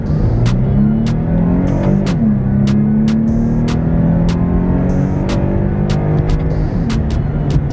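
A Porsche Panamera sedan's engine sounds steady and close from inside the cabin while driving, its tone climbing and easing through gear changes, with sharp ticks repeating over the constant drone.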